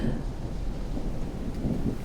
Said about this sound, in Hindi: तूफान आने वाला है